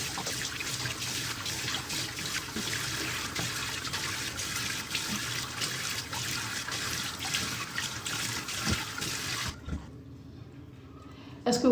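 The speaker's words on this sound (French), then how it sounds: "je vais maintenant rincer le visage et rincer les mains" Tap water runs steadily from a bathroom faucet as a woman rinses her face and hands, a continuous splashing broadband wash lasting most of the stretch before cutting off near the end, with faint voice underneath.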